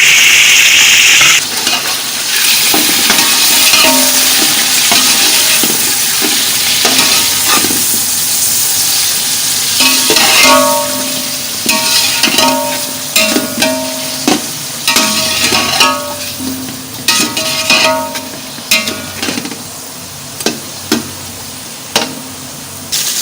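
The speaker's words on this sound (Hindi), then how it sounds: "अब इसमें मैं डालूँगी चिकन।" Chicken frying in a pot with browned onions: a loud continuous sizzle and steamy hiss at first, then repeated scraping and stirring knocks that grow more distinct toward the end, with no talking.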